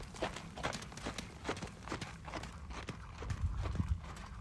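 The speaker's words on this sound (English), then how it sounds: "Bring him up to the trot." A horse trots in a round pen during a warm-up, hooves clip-clopping in a steady even rhythm, moderately close and fairly quiet, without talk over it.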